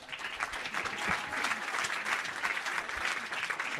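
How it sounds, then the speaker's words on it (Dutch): Steady audience applause at a ceremony, a dense wash of many hands clapping continuously at moderate, even volume, heard from within the crowd without speech on top. "Applaus nog maar even."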